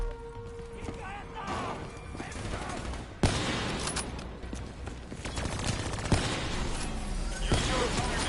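Hijacked turret fire in Black Ops 3, rapid bursts of automatic gunfire that swell and break off, getting louder and denser after a sharp blast, with a voice talking over it.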